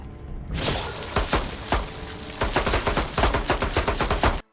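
Rapid pistol gunfire from Stryker in a Mortal Kombat fighting game, sharp loud shots cracking in bursts, first a few spaced then a quick rattling volley toward the end, with no talking.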